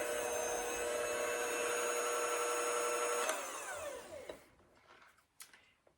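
An electric mixer beats peanut butter cookie dough with flour and baking soda, a steady close motor whine that runs for a few seconds, then winds down and stops, followed by a few faint knocks.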